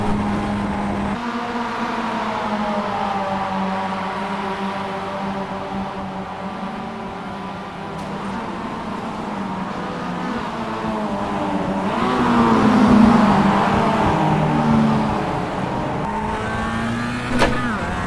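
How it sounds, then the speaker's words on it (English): Mazda MX-5 race cars in a full field at Bathurst in the iRacing video game drone together at high revs. The dense, buzzing whine swells and shifts pitch continuously and loudly for the whole stretch, with no talk over it. "Sound like a swarm of hornets, these Mazdas, when they're in a full field here."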